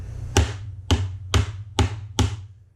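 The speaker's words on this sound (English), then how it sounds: "I like to smack it on the edge of the garbage can" A dusty Shark Ion robot vacuum filter smacked against the edge of a garbage can, five sharp knocks about half a second apart, close and fairly loud with a short hollow ring after each hit.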